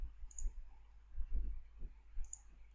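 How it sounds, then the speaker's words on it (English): A computer mouse gives two short, crisp double clicks on a file, one near the start and one near the end, close up and isolated in a quiet room. "And if I double click on this file"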